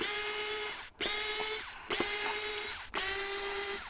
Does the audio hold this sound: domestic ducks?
no